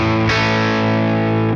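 An electric guitar through a Tone King Imperial preamp pedal on a bridge humbucker or hot rail pickup rings out one loud, driven chord, struck sharply and held evenly for over a second before cutting off.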